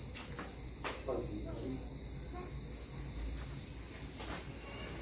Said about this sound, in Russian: Цикады поют, бананы растут.